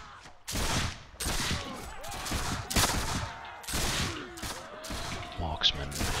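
Musket volleys crack out in a Mount & Blade: With Fire & Sword siege battle, giving repeated loud sharp bursts of massed gunfire in irregular succession, with a voice heard among them.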